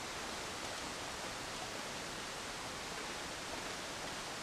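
Rushing water from a waterfall in the survival game The Long Dark forms a constant broadband hiss, soft and uniform from start to finish, with nothing else audible.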